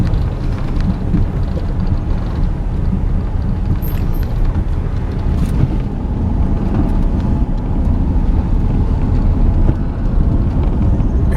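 A vehicle drives along the northern boundary of a rural tract of land, giving a steady, loud rumble of engine and tyres on a rough track that holds throughout with no talk.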